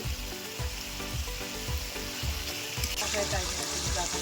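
Chicken rezala sautéing in a pot with whole green chillies and fried onions, a loud steady sizzle and frying hiss with rhythmic scraping stir strokes throughout, close up.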